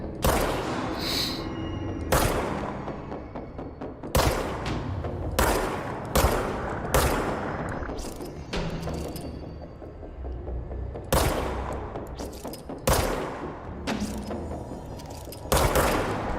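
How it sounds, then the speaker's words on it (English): Rapid gunfire rings out in the video game Control, with repeated sharp bursts of shots spaced a second or two apart over a low steady background hum. "I am aiming clear at that thing, and my bullets are just missing."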